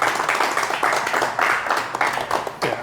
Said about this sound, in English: put your hands together, give you a round of applause one more time for Wasim